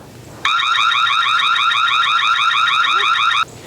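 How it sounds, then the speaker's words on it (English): Security camera alarm siren triggered from a phone, a loud, rapidly warbling electronic tone that sounds steadily for about three seconds and then stops abruptly, close to the microphone with no talking. "Now we can turn on the alarm,"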